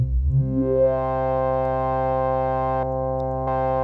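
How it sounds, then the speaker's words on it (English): Roland System-1m synthesizer with sync and the sub oscillator engaged, its filter left raw: a steady, bright sustained tone that sweeps upward at the start and then holds loud and even, alone with no talking. "now let's listen to the filter in its raw state"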